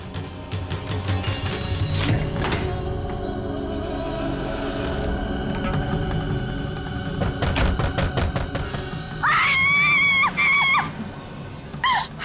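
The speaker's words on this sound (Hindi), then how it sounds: "चिल्ला मत, भूत नहीं आ जाएगी।" A scream rings out in a tense Hindi TV drama scene, loud and high-pitched near the end, with several sharp thumps and bangs scattered before it.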